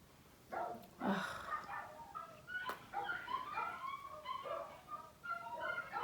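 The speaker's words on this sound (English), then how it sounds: "That's 4 dogs." Several dogs bark and yip in overlapping bursts for several seconds, fairly close and loud, with no one talking.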